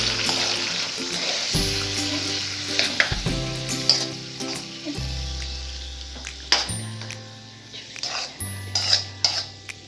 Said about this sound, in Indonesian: Lalu aduk-aduk sampai merata.